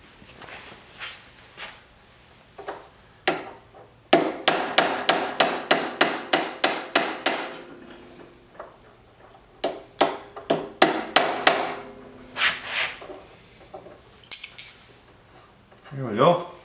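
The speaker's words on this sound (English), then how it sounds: "So I'm gonna try with the chisel and hammer and see if I can loosen it." Sharp metallic hammer strikes on a chisel ring out in quick bursts, loosening a stripped nut on a thickness planer, a rapid run of about a dozen blows followed by scattered single hits, close and loud.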